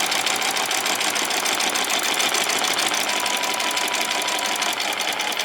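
Sewing machine stitching a seam with the quarter-inch presser foot, a steady fast mechanical hum and rattle running without pause, close and loud, no talking.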